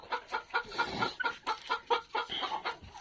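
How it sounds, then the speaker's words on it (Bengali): Japanese bantam chickens, two hens and a rooster, cluck in a steady run of short, close bursts, several calls overlapping with a busy, rhythmic pattern and no talking. "আমার এখানে এক পেয়ার মুরগি আছে দুইটা মুরগি এবং একটা মোরগ"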